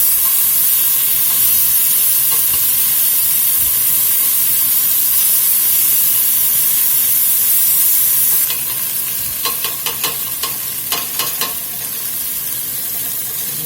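Meat for grillades browns in a pot, a steady loud frying sizzle and hiss throughout, joined near the end by a few scraping stirs of a utensil against the pot.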